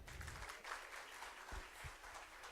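Audience at a nursing teachers' association session clapping together, a steady, fairly faint wash of applause lasting the whole moment, heard from within the room with no voices over it.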